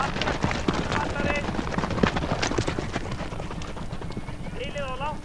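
Horses' hooves clip-clop steadily on the ground during a riding lesson at Vindás, close and continuous, with an instructor speaking throughout and a horse whinnying near the end.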